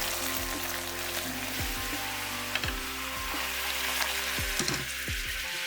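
Boiling water hits hot caramel, which sizzles and bubbles steadily, a dense hiss with a low hum underneath and a few sharper pops scattered throughout.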